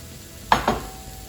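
Corn and chickpeas drop into a full pan of spaghetti squash chili, making two quick, close, soft thuds about a fifth of a second apart against a quiet kitchen background.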